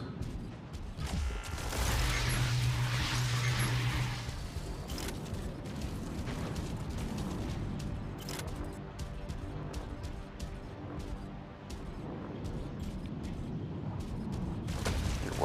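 Repeated mortar blasts and booming impacts in the mech combat game Mech Arena, dense, loud and continuous with mechanical clanking throughout.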